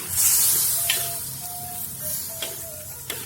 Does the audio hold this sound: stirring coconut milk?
yes